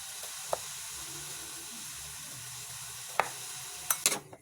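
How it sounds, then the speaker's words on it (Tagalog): Soaked squid frying in garlic butter in a pan as it is stirred, a steady close sizzle with a few brief clacks of the stirring utensil, no talk. "At saka ko na ilalagay yung akin binabad kanina na pusit. Halo-halo lang. At hinayaang maluto saglit."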